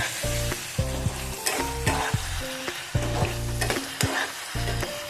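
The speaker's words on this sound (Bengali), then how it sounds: "এই মাছগুলোকে আমি দিয়ে দিলাম দিয়ে একটু নেড়ে দিলাম" Fish pieces for chilli fish land in a hot pan and are stirred, a loud steady sizzle broken by repeated scraping strokes and clanks of the spatula against the pan, with a low tonal hum underneath.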